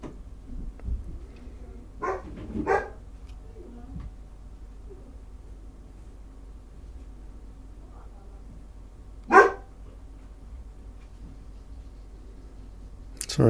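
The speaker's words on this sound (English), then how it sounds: "Sorry about the dog barking." A dog barks in a few short bursts somewhat far off, with a couple of yelps early on and one sharper bark later, over a quiet indoor room tone.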